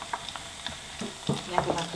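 Garlic frying in hot oil until it starts to brown, a soft sizzle with scattered light pops and stirring clatters throughout, no one speaking.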